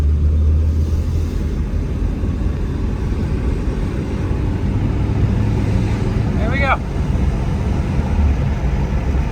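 Volvo 240 car driving out of woods where abandoned Volvos sit, a steady low engine and road rumble running throughout, with a voice briefly speaking over it.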